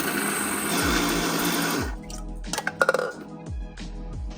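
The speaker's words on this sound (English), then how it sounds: "And then I'm grinding it in this wonderful grinder." An electric grinder grinds walnuts for a keto pumpkin pie crust with a loud, steady whirring buzz. The buzz cuts out partway through, leaving a few clattering taps and a faint motor hum.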